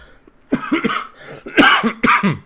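Several close, harsh coughs in quick bursts, separated by brief pauses, with no speech.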